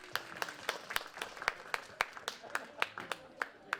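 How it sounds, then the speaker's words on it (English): A small audience at a student screening claps in a sparse, uneven round, with individual sharp claps standing out distinctly rather than blending into a roar, fairly quiet overall. "One round of applause again"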